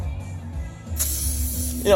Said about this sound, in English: spray a little bit on there